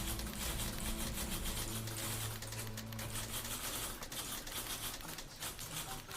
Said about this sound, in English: Oh, typewriters?